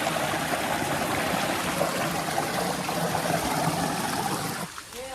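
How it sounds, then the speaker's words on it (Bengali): Water rushes steadily at Napittachora waterfall near Sitakunda, a broad, even roar of flowing stream and falling water, moderately loud and close, with no talking. "ফাইনালি 3 নাম্বার ঝর্ণার সামনে চলে আসলাম।"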